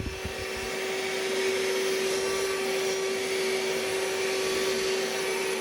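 A Goodmans cordless wet and dry handheld vacuum with no nozzle attachment whirs up to speed and holds a steady high-pitched whine while sucking up spilled flour, loud and close with no talking.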